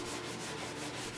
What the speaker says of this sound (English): Sanding with wet dry paper and 220 grit is your final preparation before varnishing.